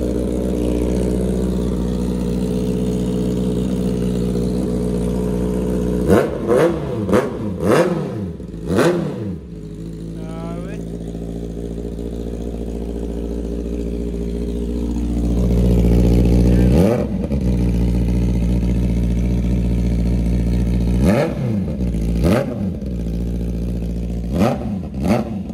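A brand-new Honda CB650R motorcycle with a freshly fitted aftermarket exhaust pipe idles with a deep, steady burble, broken by several sharp throttle blips and revs that rise and drop quickly, loud and close.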